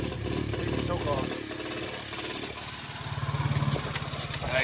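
Yamaha Grizzly 80cc ATV with a new carburetor idling close by, a buzzy, uneven putter that dips and picks back up.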